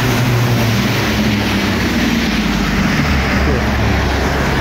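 Noisy street traffic roars loudly and continuously close by, a dense wash of passing vehicles with heavy low rumble, and someone talks over it.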